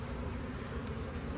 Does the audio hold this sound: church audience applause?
no